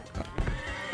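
A horse in the Survivalcraft 2 video game, with soft clip-clop hoof sounds and a faint neigh over about a second of game noise.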